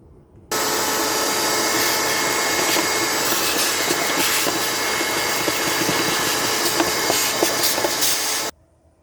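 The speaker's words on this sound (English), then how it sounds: "I'm just gonna use the air, blow it out" Compressed air blasts through the air filter from a 2017 Chevy Cruze, a loud continuous hissing rush that starts abruptly after a short quiet pause, holds for about eight seconds, then cuts off sharply.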